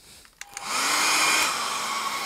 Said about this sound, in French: Vous prenez votre sèche-cheveux,